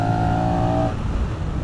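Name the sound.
Honda Rebel 1100 DCT motorcycle accelerating at full throttle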